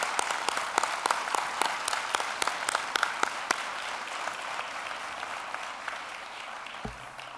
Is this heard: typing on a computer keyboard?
no